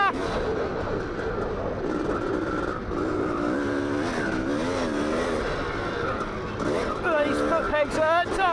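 A poor-quality dirt bike ridden off-road, its engine revving and warbling continuously close by while a rider's voice talks over it.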